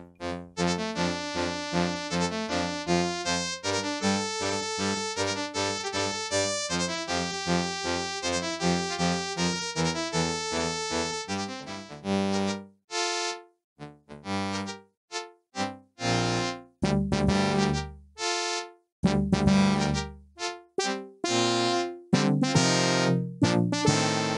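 Wizardry 7 DOS game music playing without a Roland sound card: crude, buzzy synthesized tones, dense and continuous at first, then breaking into choppy bursts separated by short gaps.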